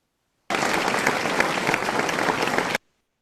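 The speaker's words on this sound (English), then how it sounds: "Can we give him a clap?" Members at an Athlone Toastmasters club meeting clap for a fellow member: a short, even burst of applause starts abruptly, stays steady and close for about two seconds, then cuts off into silence.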